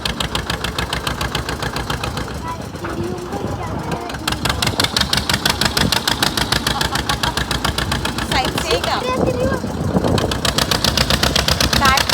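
A tractor engine chugs loudly and steadily with a rapid, knocking rhythm throughout, close up and dominating everything else.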